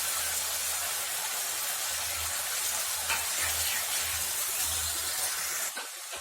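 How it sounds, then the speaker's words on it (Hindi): Onions frying in a pan until light brown: a steady, close, bright sizzling hiss runs continuously, with faint stirring ticks, and cuts off just before the end. "प्याज को हमें लाइट ब्राउन होने तक फ्राई करना है।"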